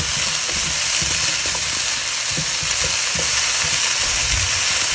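Beef stir-frying in a pan for beef with broccoli, heat turned from high to medium, gives a loud dense continuous sizzle with low scraping thumps of stirring scattered through it.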